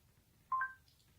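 A KakaoTalk message notification plays on a smartphone: one short, clear electronic chime over a quiet background, followed by a faint trailing tone.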